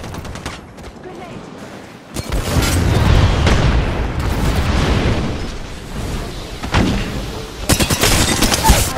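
Grenade blast in the battle royale game Apex Legends: a loud boom erupts and rolls into sustained rumbling and crackling gunfire, with a second burst of sharp shots near the end.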